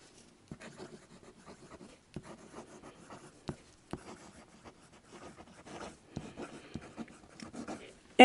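A Noodler's Ahab fountain pen fitted with a #6 1.5 stub nib scratches across paper in soft, irregular strokes and taps, close and quiet, with brief pauses between words being written.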